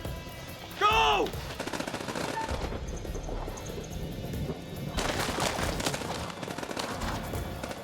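Gunfire in the video game The Dark Pictures: House of Ashes, a loud burst near the one-second mark followed by rattling shots and crashes through the rest, with shouting voices mixed in.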